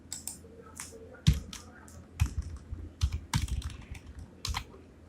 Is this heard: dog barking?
no